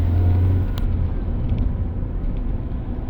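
A car pulling away from the Pasteur toll gate and turning left, a close low engine rumble and road noise that holds steady for a few seconds with a faint click early on, no talk.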